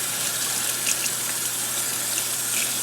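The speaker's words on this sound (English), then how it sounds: "Give it a rinse." A rabbit hide is rinsed in water, giving a steady, close rushing and splashing wash that runs unbroken for a few seconds with no voices.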